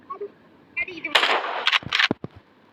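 Gunshots in the hunting video game American Marksman, a few loud sharp bursts in quick succession with short echoing tails, and voices talking around them.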